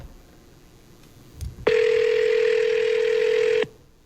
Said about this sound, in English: let me just get on the phone